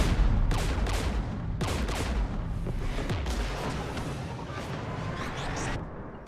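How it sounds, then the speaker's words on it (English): Heavy gunfire rattles through a Mass Effect 3 battle with the Geth near anti-aircraft guns, dense overlapping shots and booming bursts continuing loudly and steadily throughout. "We're taking fire."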